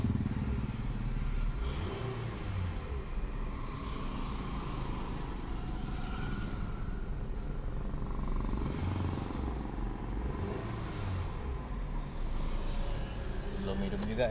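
A Honda Jazz with a stuttering, hesitating engine fault, already fitted with new spark plugs and a new fuel pump, cranks without starting. A close, steady mechanical drone pulses unevenly the whole time.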